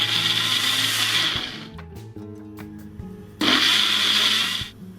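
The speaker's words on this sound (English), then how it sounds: "Blend." A blender whirs loudly as it purees lime and lime zest for summer popsicles, running in two bursts separated by a brief pause filled with clinks and knocks.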